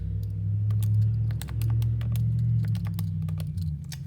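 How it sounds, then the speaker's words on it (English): Light, quick keystrokes tap on a computer keyboard over a loud, steady low hum, with a few short bursts of clicks close by. "And now I type it in."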